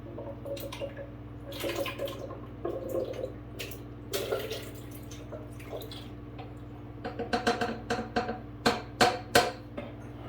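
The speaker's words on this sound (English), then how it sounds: "So I'm going to go ahead and pour this into the Vitamix blender." Thick cooled sauce pours and splashes in uneven bursts into a Vitamix blender, with wet drips and clunks growing louder toward the end; no one speaks.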